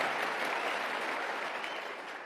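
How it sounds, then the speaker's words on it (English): A studio audience applauds steadily in a dense wash of clapping that slowly fades, heard alone with no talk over it. "I'll take some applause on that."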